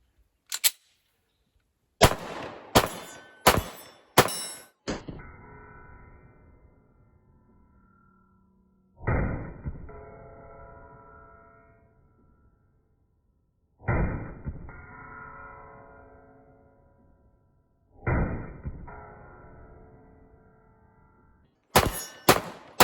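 A Palmetto State Armory Dagger 9mm pistol fires: a quick burst of sharp, close cracks, then several single shots stretched into long, booming, decaying rumbles separated by silence, and another tight pair of cracks at the end.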